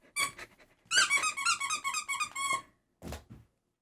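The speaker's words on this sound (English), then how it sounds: "Let's give a round of squeaks for Erin." A group of people lets out a round of playful high squeaks in a quick burst, followed by a short pause and one last squeak.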